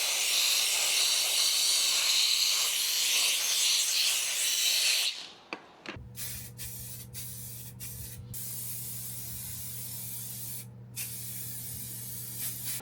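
Aerosol paint sprayed onto a sanded truck wheel in one long, loud, continuous hiss lasting about five seconds, then cutting off into a background hum with a few brief short spray bursts.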